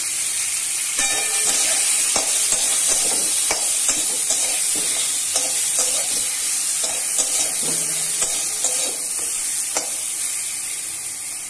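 Spices with turmeric, salt and dry chilli powder frying for sweet mango chutney, a loud steady sizzle filling the pan throughout while a spoon scrapes and stirs in repeated knocks and clinks.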